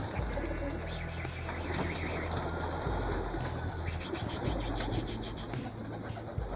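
A loft yard of homing pigeons in the afternoon gives a continuous chorus of close, low cooing, with chirps and brief wing flutters over steady outdoor background noise.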